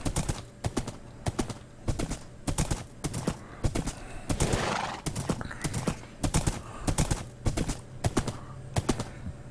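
Minecraft horse sounds: rhythmic clip-clop hoofbeats in quick, regular bursts, broken by a whinnying neigh in the middle, loud and close.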